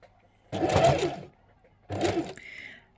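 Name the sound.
sewing machine stitching fabric binding to the corner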